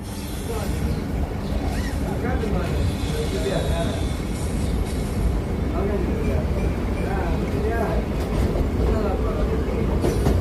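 A Chennai circular local train on the Egmore to Central loop rolls along with a continuous, close rumble and faint rail clatter, and voices murmur underneath.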